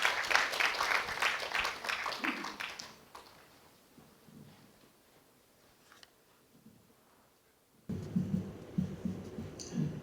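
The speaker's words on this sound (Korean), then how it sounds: "김종회 회장님을 큰 박수로 맞아주십시오." A crowd at a poetry association's chapter founding meeting in Jeju claps warmly for a few seconds, then the clapping fades to near quiet before louder murmuring and movement return.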